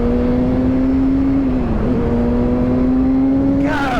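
A Kawasaki Ninja motorcycle on a test ride holds a steady engine drone with a brief dip in pitch midway, then revs sharply upward near the end, loud and close as if heard from the rider's position.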